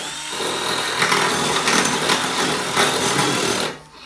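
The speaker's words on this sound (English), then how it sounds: "So we use the cone drill." A cone drill bit deburrs the inside of steel conduit, a steady loud whirring grind with high-pitched scraping that holds for several seconds and then cuts off near the end.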